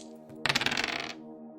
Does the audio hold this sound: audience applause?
no